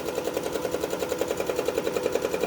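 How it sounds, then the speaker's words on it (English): A sewing machine running a straight stitch chugs in a fast, even rhythm of regular needle strokes, close and steady, with no talk over it. "I'm gonna press my presser foot down, pressing my foot pedal, sewing"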